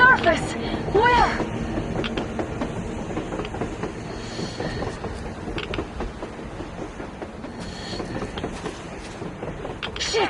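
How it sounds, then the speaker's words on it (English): A train rolls along in the video game Metro Exodus, a continuous rumbling clatter with rhythmic clicks and a high squeal, while people talk over it. "A damn train on the surface!"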